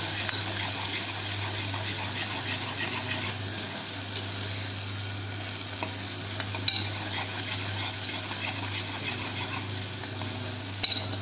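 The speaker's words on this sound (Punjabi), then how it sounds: "ਵਿੱਚ ਵਿੱਚ ਪਿਆਜ਼ਾਂ ਨੂੰ ਹਿਲਾਉਂਦੇ ਰਹਿਣਾ ਆ ਚੰਗੀ ਤਰ੍ਹਾਂ ਤਾਂ ਕਿ ਪਿਆਜ਼ ਆਪਣੇ ਥੱਲੇ ਵੀ ਨਾ ਲੱਗੇ" Onions being stirred in a cooking pan for an aloo matar sabji, a steady low scraping and faint sizzle running throughout with a couple of sharper utensil knocks near the end, no voices.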